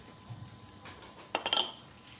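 Spoon scraping and clinking against a pan as plain flour and bicarb are stirred in, a soft, muffled rub, then a quick cluster of bright metallic taps near the end.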